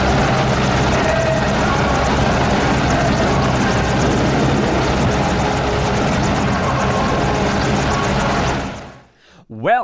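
A helicopter flies with a continuous, loud rotor and engine roar that stays even for about nine seconds, then cuts off abruptly.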